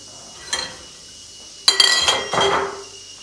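Glass jars clink and knock together in a few close, bright bursts: one brief tap, then a longer rattle of clinking glass.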